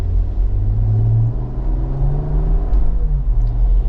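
Smooth inline-six engine of a modified Ineos Grenadier, a heavy 6,400-pound off-roader on 35-inch tires, pulling under acceleration; a steady, loud low rumble that swells slightly as it builds, with no talk over it.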